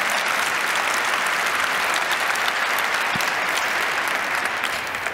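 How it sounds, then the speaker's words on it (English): A large congress crowd at an opening ceremony gives a big, steady round of applause, loud and continuous throughout with no letup. "I think that deserves a very big round of applause."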